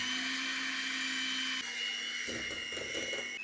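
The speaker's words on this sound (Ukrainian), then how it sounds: "І тепер можемо потихеньку включати міксер." An electric kitchen mixer beating dough whirs with a steady, close motor whine, and its tone shifts toward the end as the beaters work the mixture.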